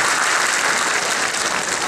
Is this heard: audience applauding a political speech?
yes